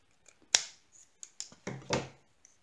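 Close, quiet snips of scissors cutting through paper straws for a craft frame, several sharp crisp cuts spaced irregularly over a couple of seconds with no talk.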